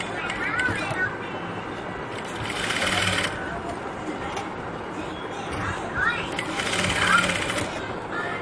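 Sewing machine stitching a cross-cut piece of sherwani canvas with the presser foot lightly raised during a tailoring class, a steady mechanical whir running throughout with two louder bursts and background chatter.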